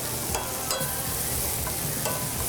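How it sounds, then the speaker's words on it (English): Pork rolls sauté in a hot pan, giving a steady close sizzle with occasional scraping stirs and no talk. "now what we're going to do is get a nice saute on those as well"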